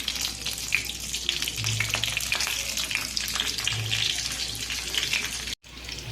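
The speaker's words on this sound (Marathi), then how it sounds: "फोडणी तडतडली" Steady sizzling crackle of cumin, curry leaves and chilli frying in hot oil, close and continuous, with a low hum underneath and no voices.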